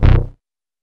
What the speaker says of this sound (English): Let me switch to a different sound like this bass synth.